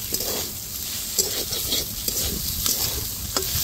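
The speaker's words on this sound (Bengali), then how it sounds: "হাফ চা চামচ লঙ্কা কুচি। খুব ভালো করে নাড়া দিয়ে নিব।" A spice mixture with ground black pepper and chopped chili being stirred in a pan, with a continuous hiss and sizzle and scattered scraping strokes at an even, close level; no one talks.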